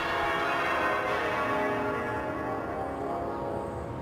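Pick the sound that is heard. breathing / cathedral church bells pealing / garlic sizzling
cathedral church bells pealing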